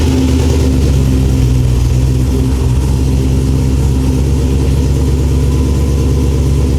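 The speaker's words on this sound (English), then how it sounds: "Now we're just gonna do a quick start and shut it off" A Toyota FJ40 engine runs at a steady idle, a loud, close, continuous rumble throughout while the power steering pump is cycled, with no talking.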